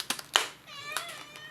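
A hungry cat meowing in a home kitchen while food is being cooked: a couple of sharp knocks, then one drawn-out, fairly close meow that rises and trails off.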